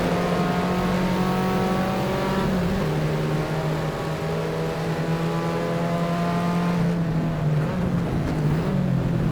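A 1972 Holden Torana XU-1 racing car howls at full power around Wanneroo, its loud, steady engine note holding high revs throughout with slight pitch shifts between gears, close and continuous with no talk.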